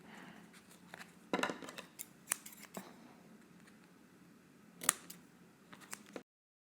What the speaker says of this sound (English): cut the tape edges so that they don't reach past the overall outline of the tree